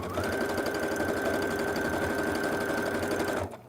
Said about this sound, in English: I'm just going to throw some quilting lines here.